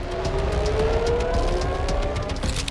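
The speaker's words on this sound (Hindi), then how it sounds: "पूरे इजराइल में इस वक्त ऐसे ही सायरन गूंज रहे हैं।" Air raid sirens in Israel wail in a rising tone over steady traffic-like rumble and background noise, sounding somewhat distant.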